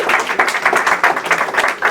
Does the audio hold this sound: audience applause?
yes